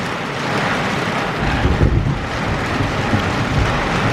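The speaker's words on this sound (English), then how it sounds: "I see a lot of wind and I see a lot of rain." Steady rain and gusting wind roar together during a tropical storm, a dense continuous wash of noise with a stronger low rumble of gusts midway and no voices.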